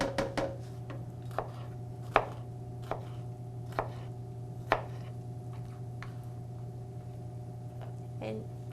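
Vegetables are chopped with a knife on a board in a home kitchen, irregular sharp thuds spaced about a second apart over a steady low hum, with no talk.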